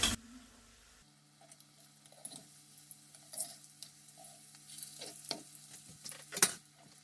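Kebabs sizzle quietly in a pan and are turned over, soft frying hiss with scattered clicks and light scraping taps as the pieces are flipped, close but low in level, no talking.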